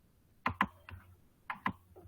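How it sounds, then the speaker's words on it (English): Soft computer keyboard keystrokes, two quick pairs of clicks with a lone tap between and a faint final press, close and quiet with no talking. "I am just typing"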